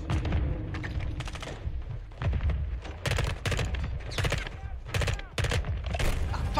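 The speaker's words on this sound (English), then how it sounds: "They're launching grenades!" Grenade explosions and gunfire in the Modern Warfare II video game crack out in rapid irregular bursts, sharp bangs and booms stacking over a rumbling battlefield bed, loud and close.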